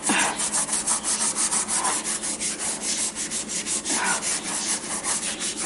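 Powdered cleanser mixed with water is scrubbed hard across a surface in steady back-and-forth strokes, a loud, close, gritty rubbing rhythm that continues throughout with no voices.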